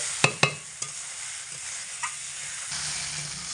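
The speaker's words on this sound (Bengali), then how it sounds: "চাল দিয়ে এক মিনিট মতো নাড়াচাড়া করে নেব" Soaked rice stirred with spices in a pan for khichuri: two sharp utensil knocks and a lighter tap near the start, then a steady close sizzle hissing on alone.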